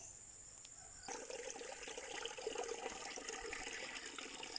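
Water running steadily from a drinking water source outdoors, starting abruptly after a second and continuing as a constant hissing splash.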